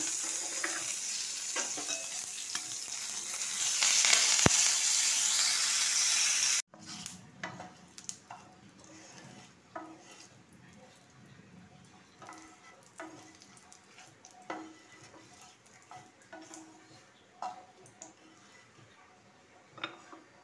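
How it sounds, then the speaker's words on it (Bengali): Dried red chillies, curry leaves and black mustard seeds hit hot oil in a kadai for a brinjal dish, giving a loud, close, steady sizzle for about six seconds, then a cut to softer crackling with scattered ticks and pops. "কড়াইতে যে তেল আছে, আমি দুটো শুকনো লঙ্কা, কারি পাতা আর কালো সরষে দিয়ে ফোড়ন দিলাম।"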